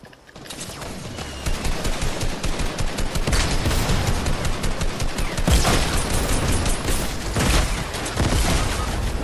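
In Fortnite, loud, near-continuous rapid gunfire with a few heavier blasts mixed in, fitting rocket launcher explosions, persists as a dense, steady barrage from about a second in to the end, with no voices.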